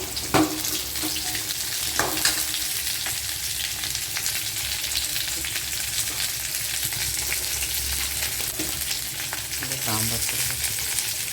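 Small onions sizzling in hot oil for an okra tamarind curry, a steady close crackle with occasional stirring clinks and brief water sounds in a home kitchen.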